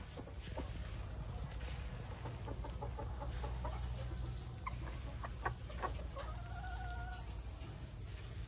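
Chickens in backyard battery-type breeding cages cluck and call close by, with short bursts over a steady low hum.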